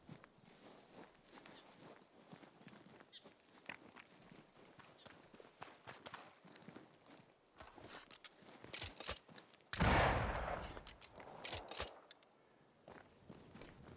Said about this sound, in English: destroying an entire wooden barricade with one shot of a gun is crazy